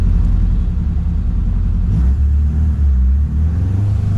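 A naturally aspirated Ford Zetec Rocam 1.6 engine runs on a dynamometer at high rpm, a loud, steady low rumble that shifts pitch slightly midway, with no voices over it.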